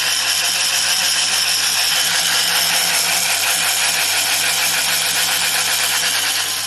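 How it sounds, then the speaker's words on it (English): The motors of a rewired Nerf Stryfe blaster, noticeably worn, spin up into a continuous buzzing whine that holds steady and loud for several seconds with a slight rattle, and no voices. "The motors sound like they've had better days"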